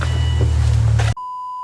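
A car that won't start gives a sustained electronic beep after a loud rumbling noise cuts off abruptly, the tone steady and close, with no voices.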